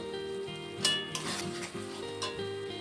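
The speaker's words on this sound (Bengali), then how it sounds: "মশলা দিয়ে তেল ছেড়ে দিয়েছে, এখন দিয়ে দেবো চানা মশলা 2 চামচের মতো" Spices fry in oil with chana masala for a chicken and chickpea curry: a soft, steady sizzle with occasional scraping stirs of a spoon against the pan, fairly quiet and close.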